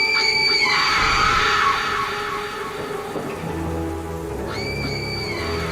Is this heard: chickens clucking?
no